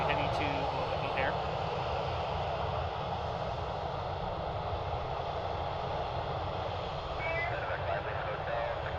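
A passing aircraft in Evo Blue livery near Cleveland Hopkins airport gives a steady, loud engine roar that holds evenly throughout, with no clear rise or fade.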